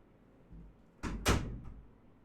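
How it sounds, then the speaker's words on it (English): A door swings shut indoors with a short, fairly loud thud and a brief rattle, preceded by a faint shuffle, then quiet room noise. "I'm just gonna close the door"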